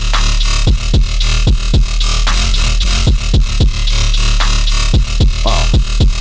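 Gritty comb-filtered grunge bass synth patch built in Serum, looping as a continuous loud buzzing tone with sharp rhythmic pulses and shifting metallic resonance, without any talking.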